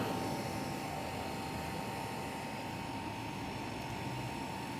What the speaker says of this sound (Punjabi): 800 900 ਦੀ ਸਪੀਡ ਤੇ ਜਾ ਕੇ ਜਹਾਜ਼ ਟੇਕ ਆਫ ਕਰੂਗਾ